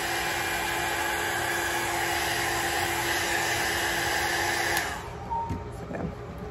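Hair dryer blowing steadily and loudly up close while drying an alcohol ink painting, a continuous broadband whoosh that cuts off near the end, leaving quieter room sounds and small handling noises.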